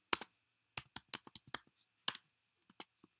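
Keys clicked on a computer keyboard while typing a name, in short bursts of crisp taps with pauses between, close and fairly quiet, no talking.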